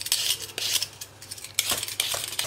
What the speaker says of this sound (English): Let me just peel one for you to see how I'm going to peel the whole thing.